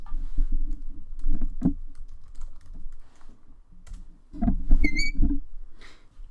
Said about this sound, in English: I'm going to just type in this company.